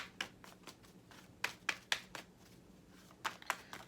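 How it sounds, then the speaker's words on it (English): Tarot cards being shuffled by hand in a quiet room, a run of soft riffling flutters and sharp snaps coming in uneven bursts, close and fairly quiet, with no talking. "Let me go ahead and shuffle the cards."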